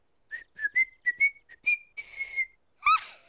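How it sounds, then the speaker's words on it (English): A short whistled tune of quick rising and falling notes from a cartoon character, clear and close, ending in a breathy higher whistle. "You know, I can whistle for real."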